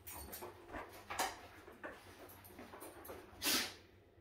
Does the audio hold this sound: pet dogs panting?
yes